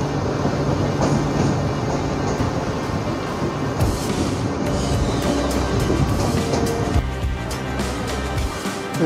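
MEMU passenger train running between Santragachi and Jhargram, a loud continuous rumble with rhythmic wheel clatter on the rails heard from inside the moving train.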